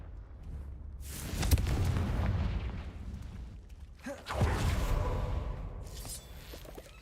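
Two booming Confringo spell explosions in Hogwarts Legacy, a few seconds apart, each a broad rumbling blast that swells and then trails off over the game's ambience.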